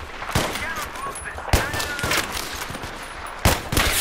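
Bolt-action sniper rifle shots in Battlefield 3 crack out sharply, three spaced reports over steady game ambience, with a voice talking underneath.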